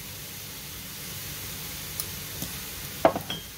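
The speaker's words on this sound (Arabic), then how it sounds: "غادي ندير البصله هنايا، غادي نخليها تشحر في هاد الدويسه" Grated onion fries in a pan with ground coriander, a soft continuous sizzle with a few light stirring clicks and scrapes toward the end, quiet and close with no speech.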